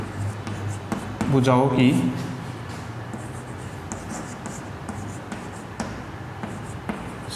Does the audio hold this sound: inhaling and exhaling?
no